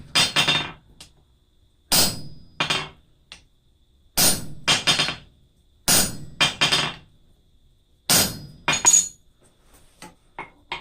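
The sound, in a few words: hammering homemade rivets with a top rivet set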